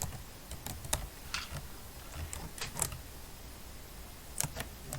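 Typing HTML code on a computer keyboard, with scattered single key clicks and short runs of keystrokes at an uneven pace, close and fairly quiet, with no voices.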